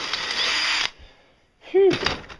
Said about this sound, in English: I just need to drill a hole through the pivot point and get a bolt in there.